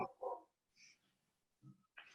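A dog barks a few times in short, separate bursts with gaps between them, faint and somewhat distant in a quiet room.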